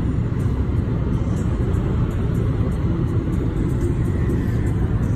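Car cruising at over 160 while overtaking another car on a highway: a loud, steady rumble of road and engine noise that stays level throughout, with no one talking.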